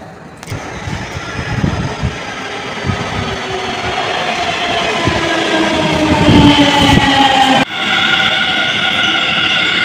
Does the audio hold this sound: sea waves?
no